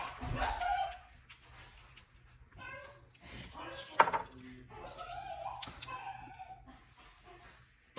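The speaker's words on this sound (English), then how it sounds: "Do you hear my dog?" A small dog barks and yips in a home as someone walks in the door, a few sharp, fairly close bursts mixed with someone talking and some clatter.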